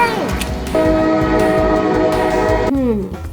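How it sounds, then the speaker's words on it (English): A toy freight train from a Brio Deluxe Railway set rolls through a tunnel with a sustained horn-like tone and rattling wheels, close and loud, ending in a falling whistle. "There's a freight train coming through the tunnel."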